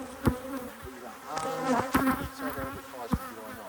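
Agitated honey bees buzz in a dense, continuous drone around an open hive, with sharper individual bees zipping close past the listener every second or so.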